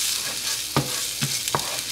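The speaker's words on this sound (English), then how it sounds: "so we're shallow frying them" Food shallow frying in a pan, a close, steady crackling sizzle with a few sharp bursts where the pieces are stirred or moved.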